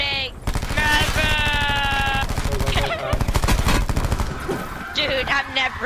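Rapid automatic gunfire from a weapon in a video game, bursts of close, loud shots with a brief pause, under excited talk from a player.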